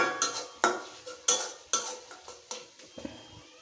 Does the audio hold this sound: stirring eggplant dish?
yes